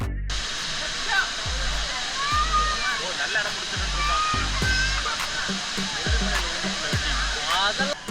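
At Hogenakkal waterfall, forceful rushing water makes a loud, continuous broadband roar, with low thuds and sloshing splashes recurring throughout and people talking nearby.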